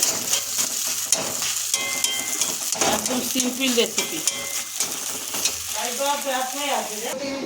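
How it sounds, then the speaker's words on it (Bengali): Taro sizzles and fries in a pan with dried red chilies, nigella seeds, salt and turmeric, a steady crackle under occasional stirring scrapes, while someone speaks briefly over it and background music plays. "কচুটা ভাজা হচ্ছে"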